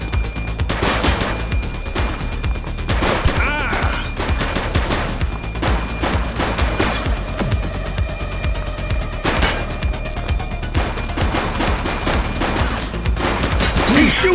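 Rapid bursts of gunfire from a police shooter game, The Precinct, crack loudly and repeatedly in dense volleys, with occasional heavier booms mixed in across the whole stretch.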